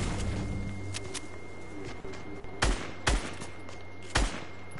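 Video game gunfire crackles through a busy game soundtrack, with a few loud, sharp shots standing out near the end over a steady background bed.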